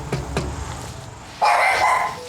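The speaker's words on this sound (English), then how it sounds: "Just a dog." Two sharp dog barks ring out in the distance over steady background noise, followed by a louder, sustained burst of barking or yelping that continues to the end.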